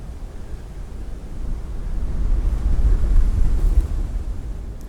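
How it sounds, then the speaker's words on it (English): Strong wind roaring over a cliff with ocean waves rumbling below in the video game Blue Prince, a steady low buffeting that swells louder midway, with no voices. "Very windy."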